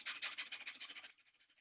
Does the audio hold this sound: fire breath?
yes